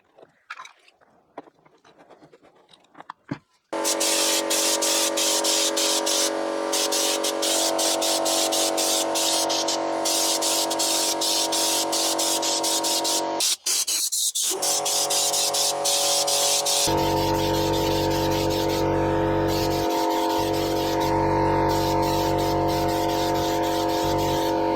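An aerosol can sprays Raptor bedliner paint into the rear tub of a 2021 Isuzu D-Max dual cab ute, a loud continuous close hiss that runs for about twenty seconds with one brief pause, after a few quiet handling noises.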